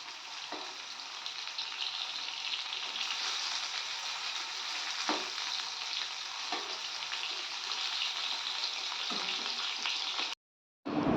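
Pointed gourd and potato slices frying in hot oil give a steady bright sizzle throughout, with a few soft stirring knocks and a brief cutout near the end.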